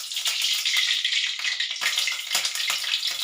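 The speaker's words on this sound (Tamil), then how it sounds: "இதில் இந்த 4 ஸ்பூன் எண்ணெயை வந்து நம்ம இதில் ஊற்றிடலாம்." Oil poured into a cooking pan while preparing a Tamil potato kulambu, heard as a steady, close hissing sizzle with faint crackles throughout, no talking.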